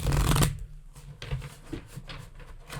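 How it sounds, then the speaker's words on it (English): A deck of tarot cards is riffle-shuffled close by, with a loud burst of rapid flutter followed by softer taps and shuffling rustles. "And the third shuffle of the night."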